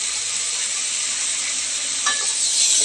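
Eggplant and potato pieces sauté in a pan over a high flame, giving a loud, even, continuous sizzle with a brief stirring scrape near the end; no speech.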